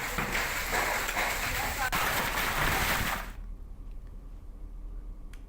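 Rain and hail pour down hard during a strong windstorm, a dense, loud, hissing rattle that suddenly drops away about two-thirds through, leaving a faint, quiet background.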